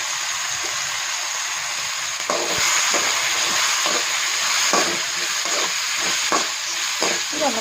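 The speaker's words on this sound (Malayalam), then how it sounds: "ഇനി നമുക്കിതിലേക്ക് ക്യാരറ്റ് ചേർത്ത് കൊടുക്കാം കേട്ടോ." Lengthwise-sliced carrots sauté in a hot pan for a carrot, bitter gourd and mango pickle, a steady close sizzle with repeated scraping stirs through the second half.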